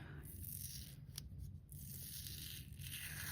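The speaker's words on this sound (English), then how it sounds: "I'm gonna need some scissors." Scissors snip and rustle against craft material at a cluttered desk, a couple of crisp cuts over a constant low background hum.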